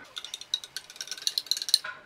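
A spoon stirs MRE coffee with creamer and Splenda in a small container, giving a fast run of light rhythmic clinks and scrapes, close and fairly soft, with no talk.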